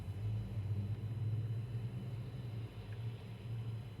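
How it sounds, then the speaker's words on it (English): Low, continuous thunder rumbling during a severe bow-echo thunderstorm line in Cumberland County, Pennsylvania, rolling and swelling in distant waves without any speech. "Severe thunderstorms"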